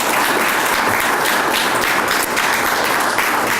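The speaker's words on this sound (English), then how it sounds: "Let's give them another big round of applause" A large outdoor audience at a Vietnam veterans pinning ceremony at a national cemetery gives a loud, continuous round of applause, a dense unbroken wash of clapping from many people lasting throughout.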